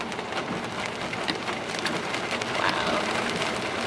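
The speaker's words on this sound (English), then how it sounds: "It's pouring." Heavy rain pours down outdoors in a steady, dense hiss of drops that continues unbroken and fairly loud throughout.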